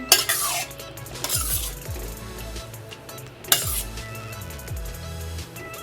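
Gulab jamun mixture made from MTR ready-made mix being stirred, with repeated metallic scrapes and clinks of a spoon against a vessel in bursts and a light sizzle beneath, close and clear, with no voices.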